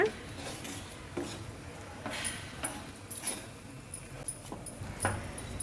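A spoon stirs and scrapes a sweet burfi mixture of roasted gram and jaggery with ghee in a pan, giving repeated clinking scrapes at an irregular rhythm, fairly quiet and close.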